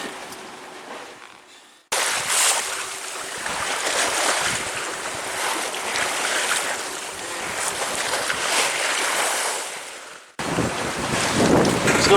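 A sailboat makes its way across calm sea toward the edge of the Bahama bank, with a steady rush of wind and water against the hull, loud and continuous across several abrupt cuts.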